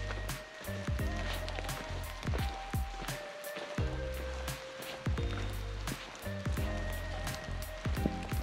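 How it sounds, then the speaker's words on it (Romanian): Light rain patters steadily on surfaces outdoors at a mountain cabin in Ceahlău National Park, with irregular drip taps and faint background activity from a nearby gathering. "A început și o ploaie ușoară."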